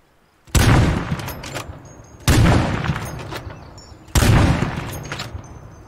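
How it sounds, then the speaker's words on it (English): Three heavy, booming shots from a bolt action .50 cal rifle in the video game State of Decay 2. They land about two seconds apart, each a loud, sharp blast with a long echoing tail, and nobody talks. "This is basically a bolt action 50 cal."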